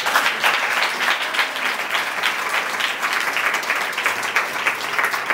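A church congregation applauds during a blessing-time service, steady dense clapping from many hands that stays at an even, loud level throughout with no voices breaking through.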